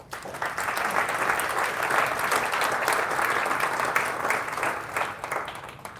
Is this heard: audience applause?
yes